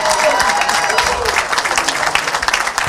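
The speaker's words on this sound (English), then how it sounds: "please give me a round of applause for my father" Guests at a Man of the Year reception in Atlanta break into loud, sustained applause for an honoree's father, dense clapping mixed with crowd cheers and voices.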